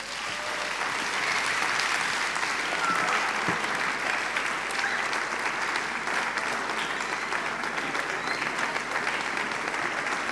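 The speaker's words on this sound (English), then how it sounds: "Let's clap for our pastor." A church congregation applauds at the close of a sermon, sustained thick clapping from many people that rolls on evenly and continuously for several seconds.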